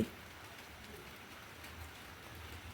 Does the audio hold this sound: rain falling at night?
yes